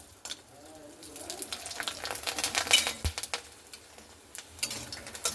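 Red-coloured sago papad frying in hot oil, a broad crackling sizzle with stirring clinks and a few sharp pops, moderately loud and steady across the clip with no talk.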